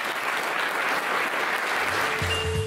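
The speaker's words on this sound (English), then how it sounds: "Round of applause, number 19." Audience applause at a televised public experiment show, steady dense clapping filling the space at full volume for the whole stretch, with a brief low murmur near the end.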